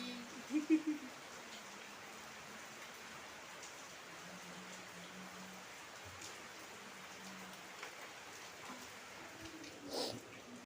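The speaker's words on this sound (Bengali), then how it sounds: "বৃষ্টি বৃষ্টি হচ্ছে বৃষ্টি আয় আয় বৃষ্টি আয় হাত দিয়ে ধরি" Soft, even patter of rain falling continuously, with a brief faint voice sound near the start and a small rustle near the end.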